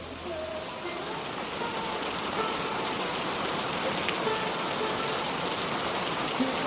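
Steady rain falls without a break, a dense, even hiss that fills the whole stretch at a constant level, with no voices.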